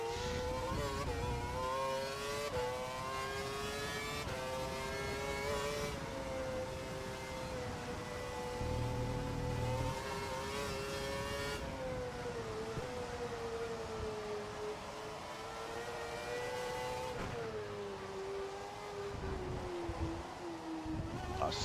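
A Formula 1 car engine from F1 2012 whines at a high pitch through a wet practice session on a dry setup, rising and falling through shifts and braking, steady and prominent with faint talk underneath.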